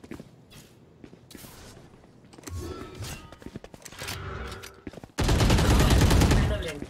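Gunfire in a Valorant match, starting with light shots and footsteps at moderate level, then a sudden loud, sustained burst of close automatic fire near the end.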